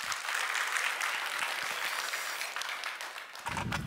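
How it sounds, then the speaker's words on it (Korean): A church congregation applauds together at a Friday worship service: loud, dense clapping fills the whole moment and tapers slightly near the end, with no talking over it. "그 마음을 담아서 우리 박수 한번 하십니다."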